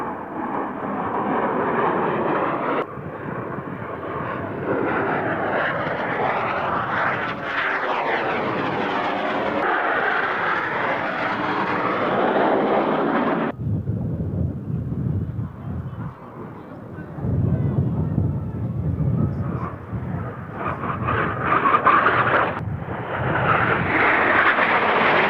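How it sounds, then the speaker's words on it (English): Roaring jet engines of Northrop NF-5A Freedom Fighter aircraft at an airshow, loud sweeping passes with rising and falling whooshes and shifting tones as the formation flies by, brief dips between passes. "Their 7 Northrop NF-5A Freedom Fighters performed a bewildering routine of set-piece formations, fast passes, rolls and climbs."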